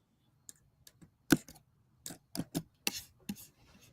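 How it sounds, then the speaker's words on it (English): A computer keyboard is typed on close to the microphone: about a dozen sharp, irregular clicks and taps, loud against an otherwise quiet background. "you too loud with that keyboard"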